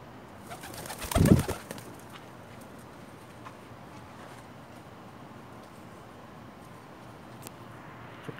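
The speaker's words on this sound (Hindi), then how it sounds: "थोड़ा कबूतर डरे से लग रहे हैं।" Pigeons cooing at a house, with a brief loud bump early on, then soft, faint coos and birdsong against a quiet background.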